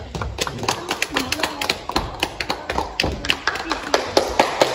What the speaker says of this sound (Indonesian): Tepuk tangan buat Siti Nganda.